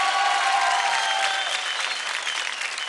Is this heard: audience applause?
yes